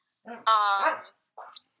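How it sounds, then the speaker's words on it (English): A dog gives a drawn-out, whining bark or howl, followed by a couple of shorter yelps, close by and fairly loud against a quiet background. "sorry, that's my LGBT dog"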